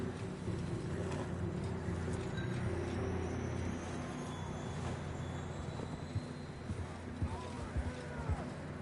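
Horses' hooves clopping steadily in a video game, a continuous rhythmic patter under ambient game noise throughout, with a voice speaking at times.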